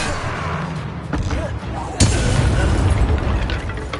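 A booming fiery blast of the Confringo spell in Hogwarts Legacy bursts out loud and close amid ongoing combat noise.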